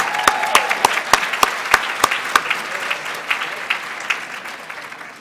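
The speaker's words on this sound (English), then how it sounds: "Let's give another round of applause to Dr." An audience claps for Dr. Patricia Deegan, with sharp distinct claps early on thinning into softer, scattered applause that tapers off.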